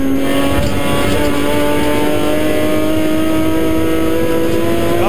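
A BMW M3 rally car at the Rajd Karkonoski rally accelerates hard on a stage, its engine note rising steadily in pitch through a loud, continuous rev, heard close as if from inside the car.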